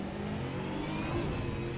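A V8 Supercar racing engine at the New Zealand V8 Summer Series, revving hard and steady as it pulls through the gears, a loud continuous roar with a high whine riding on top and no talk.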